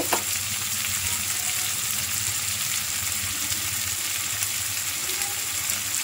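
Spice paste and turmeric frying in oil while being stirred, a steady, close sizzle with faint stirring movement running evenly for six seconds, no voices.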